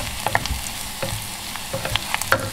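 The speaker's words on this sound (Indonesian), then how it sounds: "style Cik Ain kalau tumis, kita suka tumis bawang dia sampai jadi macam bawang goreng" Onions sizzling in a pan as they are stir-fried for a Malay-style soup, a steady close crackle broken by several light scraping stirs, with no voices.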